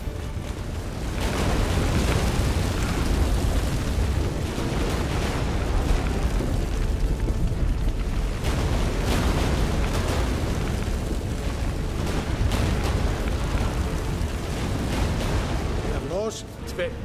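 Deep, continuous rumbling from an earthquake in the video game The Witcher 3, a loud low roar with scattered crashes and booms running steadily throughout, fading slightly at the very end.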